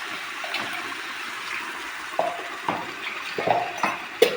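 Wash water pours and splashes into a pan of crab masala gravy with ground paste, a steady liquid gush under scattered clinks and stirring taps that grow sharper near the end.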